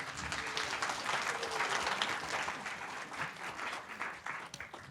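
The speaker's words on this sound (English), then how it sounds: "Let's give them a round of applause." An audience claps steadily for the GHA Players at a Christmas stage show, a dense wash of applause from a crowd that tapers slightly toward the end.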